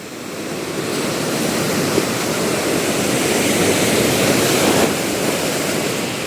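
Strong floodwater rushes steadily in a deep, eroded spot. It makes a loud, continuous roar of churning water, close and sustained, with no voices.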